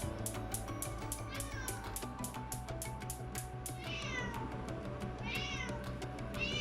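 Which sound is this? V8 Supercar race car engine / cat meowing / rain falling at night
cat meowing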